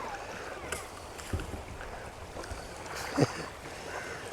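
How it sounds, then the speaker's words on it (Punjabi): A small boat's motor runs steadily on the sea off Rameshwaram, under rough wind and water noise, with a few knocks and bumps along the way. "ਲਓ ਜੀ ਸਟਾਰਟ ਹੋ ਗਿਆ ਇੰਜਨ"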